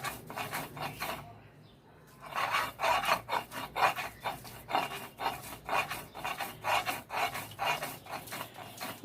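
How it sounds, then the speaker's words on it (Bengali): Bottle gourd leaves are ground into a bhorta paste on a stone slab, a steady series of rasping, scraping strokes following a short pause, each stroke distinct and close. "এখন লাউ পাতাগুলো আমরা এর সাথে বেটে নিব।"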